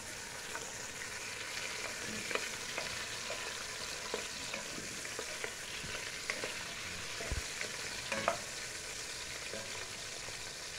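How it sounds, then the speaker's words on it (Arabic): Onion, garlic, tomato, black pepper and bay leaf fry in ghee with a continuous, fairly quiet sizzle, dotted with scattered scrapes and taps of stirring, nearby and free of speech. "هننزل بالبصل والثوم والطماطم، هننزل فيهم بالفلفل الاسمر وورق اللوري، وهنبدأ نقلب لحد ما الريحة تطلع معانا"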